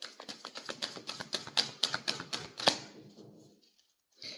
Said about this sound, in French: J'ai mon fils qui tape